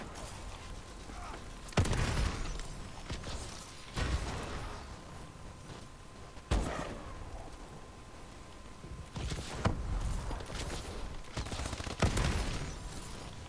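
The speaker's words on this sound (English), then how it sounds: "who the fuck is shooting at me?" Gunfire in a first-person shooter free-for-all match on PS3, with several sharp shot bursts at irregular intervals against a steady game soundscape, no speech.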